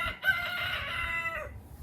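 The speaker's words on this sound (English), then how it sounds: "That's Howard, my cockerel, making it known that he is back from the field." A pet cockerel crows once from up the garden, a long drawn-out call lasting over a second against quiet outdoor background.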